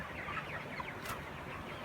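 Thirty-day-old broiler chickens in a poultry farm clucking and murmuring, a soft continuous flock chatter with no voices over it.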